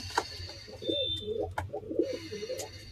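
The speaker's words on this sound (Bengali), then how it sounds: "লাল পেলং কবুতর।" Red Pelong pigeons coo in a low, throaty run of soft rolling calls, fairly close and steady, with faint background noise and a few brief clicks.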